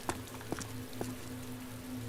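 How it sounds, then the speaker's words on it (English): Rain falls outdoors in the video game DayZ, near a cow shed in a town, as a soft steady patter with a few distinct drips over a low constant hum. No one speaks. "It looks like it's raining outside this one."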